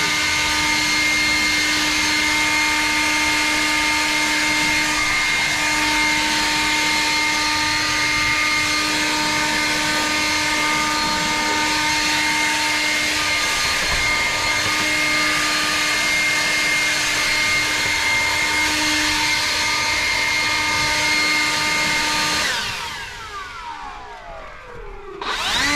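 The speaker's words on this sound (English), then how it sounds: "we gotta blow some acorns off the top of the manifold here" Loud, steady rush of a blower clearing acorns off the engine manifold of an old disco van, running continuously for most of the stretch before cutting off and winding down near the end.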